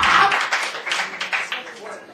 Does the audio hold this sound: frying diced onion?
no